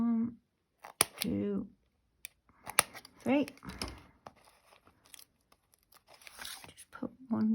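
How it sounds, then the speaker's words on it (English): Scissors snip through paper for a handmade cosy fireplace card, giving a few short, sharp cuts with crinkling between a woman's speech nearby. "Scissors."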